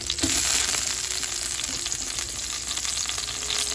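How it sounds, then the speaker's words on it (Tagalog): Potatoes fry in hot oil for pocherong pata, producing a loud, close, continuous sizzle with occasional stirring scrapes and no talk. "Ipiprito natin yung ating patatas."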